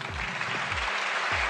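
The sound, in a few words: applause welcoming the technical head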